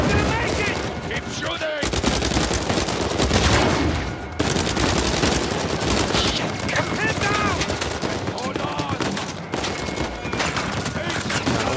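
Heavy gunfire in Uncharted 4, with rapid machine-gun bursts and dense volleys of shots close and loud, broken by brief pauses, while voices call out underneath.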